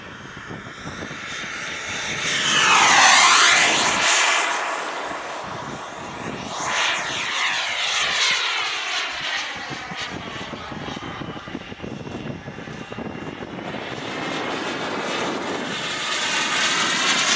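A radio-controlled Thorjet Hawk Wren 44 Gold model jet flies overhead, its loud, whining turbine roar rising and falling in pitch as it makes passes, continuous throughout without speech.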